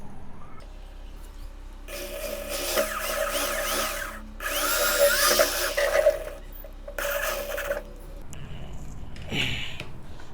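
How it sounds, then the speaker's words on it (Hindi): A power drill boring a hole in a plastic bucket for a homemade water heater, heard as loud close whining bursts of drilling with short pauses between them and some scraping and handling at the end. "तो चलिए, मैं इधर यहाँ पे छेद करता हूँ।"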